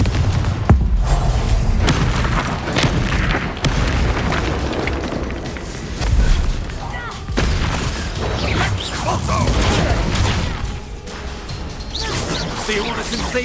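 Booming blasts from the Confringo fire spell in Hogwarts Legacy, several heavy hits over a steady game soundscape, with voices speaking between the explosions.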